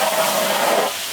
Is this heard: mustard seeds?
yes